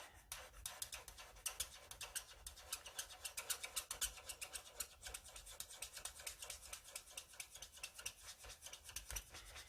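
Alcohol markers scratch back and forth across card stock while coloring a fold card, a fast rhythmic scratchy stroking, close up and faint, continuing without pause.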